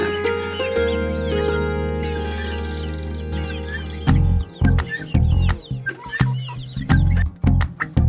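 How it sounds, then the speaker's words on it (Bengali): Chickens of several breeds kept in a small backyard farm coop cluck in uneven bursts, loud and close, following a steady sustained tone at the start; turkeys and guinea fowl share the space. "দেখেন মুরগিগুলো নানান জাতের আছে এখানে।"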